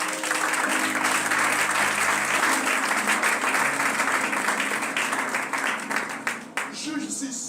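Church congregation applauding together during a sermon, dense sustained clapping filling the room throughout, loud and close, with a few voices mixed in before it begins to thin near the end.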